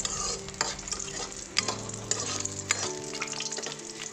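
Meat fries in its own rendered fat in a pan, sizzling steadily while a utensil stirs and scrapes it in irregular knocks, close and quiet.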